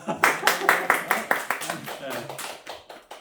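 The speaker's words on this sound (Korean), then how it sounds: "박수" Several people clap in a quick, evenly spaced burst of sharp hand claps at a social work internship orientation session, close and fairly loud, with brief voices mixed in.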